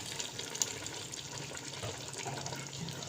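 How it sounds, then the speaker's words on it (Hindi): Cooking oil pours into a pan of minced keema in a home kitchen, a steady close liquid gush and trickle lasting a few seconds with no talking over it. "अब इसके अंदर हम क्या करेंगे, डालेंगे 1 कप ऑयल का"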